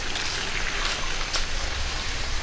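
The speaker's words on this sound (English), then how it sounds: "The noise you hear in the background is the fountain at the pond." A fountain at a pond splashing in the background, a steady broadband wash of falling water with no distinct events, continuous and moderately loud with no speech.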